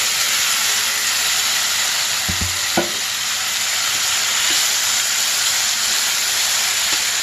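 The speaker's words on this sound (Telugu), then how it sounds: "చూడండి, అల్లం వెల్లుల్లి కూడా వేగింది." Ginger and garlic frying in a pan for aloo curry, giving a loud, steady hissing sizzle throughout with a few soft clinks of stirring partway through.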